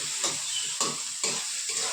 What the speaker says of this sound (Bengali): এইদিকে পেঁয়াজটাও ভালো মতন ভাজা ভাজা হয়ে যাচ্ছে,